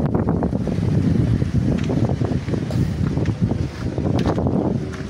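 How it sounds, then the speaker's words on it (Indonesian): Strong wind gusts by a very large, centuries-old tree at an old well site, a loud, continuous rushing roar buffeting the microphone. "Angin yang cukup besar di sini."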